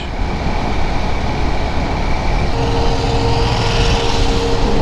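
A train rolls across the Saraighat bridge over the Brahmaputra, a loud continuous rumble and clatter that holds steady for the whole stretch, with a faint tonal whine rising toward the end.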